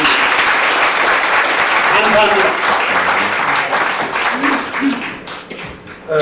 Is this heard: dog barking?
no